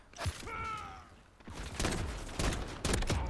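Gunfire in a first-person shooter video game: several sharp shots and impacts crackle close and loud among mechanical clatter and game effects, with a quieter stretch near the start.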